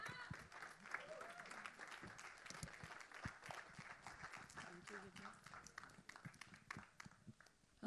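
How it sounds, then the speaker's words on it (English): Audience at a film trailer launch event clapping as a guest comes on stage, scattered irregular claps with some crowd noise, fairly faint and uneven, with talk mixed in. "a big round of applause for her"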